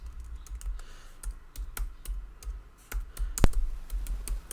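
Code is typed on a computer keyboard in quick irregular bursts of close, crisp key clicks, with a few heavier taps and brief pauses between runs.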